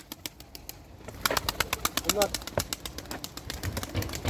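Young tumbler pigeons coo softly in a loft while sharp clicks and knocks sound close by, and someone says a word partway through.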